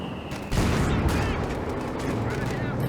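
Mortar blasts and gunfire in a real-time strategy battle with Panther tanks and Volksgrenadiers, a sudden loud burst followed by dense rattling shots and booms, with a commentator talking over it.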